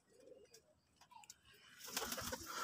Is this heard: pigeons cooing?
yes